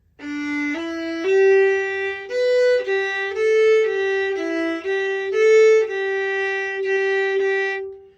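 A solo fiddle plays a lilting melodic phrase of the tune "Big Scioty", opening with a short pickup before a string of clear, bowed notes, close and unaccompanied.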